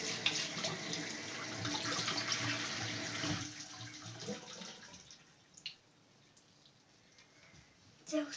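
Tap water runs and splashes as hair is wetted before washing, a loud gushing stream for a few seconds that then stops, leaving faint drips and handling noises.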